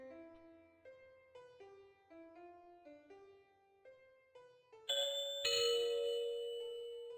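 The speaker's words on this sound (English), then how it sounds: "Ding dong." Bell-like notes on a keyboard trace a short stepping melody, clear and fairly close with no voices, before a louder ringing chord rises near the end and slowly fades.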